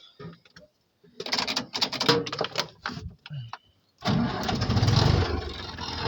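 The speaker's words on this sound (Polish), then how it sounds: "Wszedłem sobie do ciągnika. No i co? Odpalimy ją, zobaczymy jak to chodzi." Tractor engine cranking in a few short bursts from the cab, then catching and settling into a loud, steady running rumble close by.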